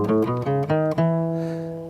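A short melodic phrase played on a plucked string instrument, a few notes stepping through a scale with a normal second degree, ending on a held ringing note that slowly fades.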